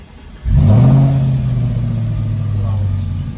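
An Audi RS5 V8 fitted with an Akrapovic full-system exhaust starts up close by, a sharp rising bark settling into a deep steady burbling idle that holds to the end.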